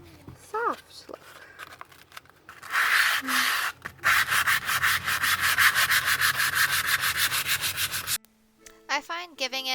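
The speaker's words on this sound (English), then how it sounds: "I find giving it like an all over buff with some like really high grit sandpaper" Light, fast back-and-forth rubbing of high-grit sandpaper over a painted wooden dresser, a steady scratchy buffing that runs for several seconds, close up, with brief talk before and after.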